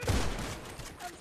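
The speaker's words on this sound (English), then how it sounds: "Try to shotgun all of them." Short, dense burst of gunfire from the GTA 5 video game, heavy and smeared together with no clean gaps, filling the whole brief moment at fairly high volume.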